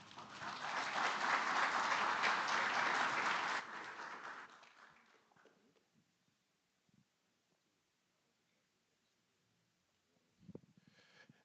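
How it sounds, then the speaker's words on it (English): Audience at a Rwandan skills forum applauding after a speech: a loud, full burst of clapping for about four seconds that fades out, followed by near silence with a few faint knocks. "Can we please give him a big round of applause one more time?"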